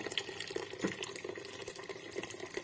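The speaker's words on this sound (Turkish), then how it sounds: "2 litre suyumuzu da şekerimize koyuyorum" Two litres of water are poured from close by onto sugar in a deep pot, producing a soft, steady splashing pour that runs quietly throughout with no voices.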